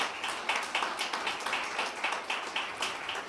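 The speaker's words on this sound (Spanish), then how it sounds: "Démosle un fuerte aplauso al Padre Eterno por ello." An audience at a church service claps in a steady, rhythmic beat, quick regular bursts of applause repeating at moderate volume for a few seconds.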